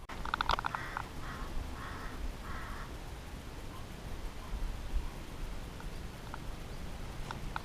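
Birds on the Whitwell moors in the Pennines give a few short calls early on, faint and somewhat distant over a steady rush of open-air wind.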